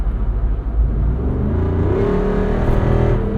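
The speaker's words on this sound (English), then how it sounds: "Rapid acceleration." A 2024 Jeep Wrangler 392 Rubicon Final Edition with a Hemi V8 accelerates hard, its deep engine roar climbing steadily in pitch, loud and close from inside the vehicle with no talk.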